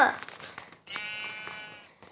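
A sheep in the video game Minecraft gives a short, nasal bleat, preceded by game sounds and clicks, with a player's voice chatting nearby.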